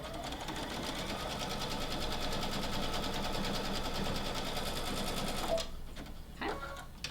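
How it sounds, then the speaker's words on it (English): A sewing machine runs steadily, close and loud, stitching a 4mm-wide zigzag along rope for a rope bowl, then stops abruptly near the end, leaving a few soft handling noises. "I'm going to do a zigzag stitch going the other way now"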